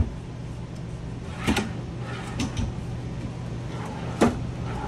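A cabinet drawer in a 2024 Forest River Salem Platinum 22ERASX travel trailer slides and knocks, giving a few close wooden clunks and thumps against a steady background hum.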